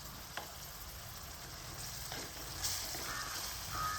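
Grated carrot and beetroot sizzle steadily in hot oil for a pickle, with occasional scrapes and knocks of a spoon stirring through the pan, close and continuous.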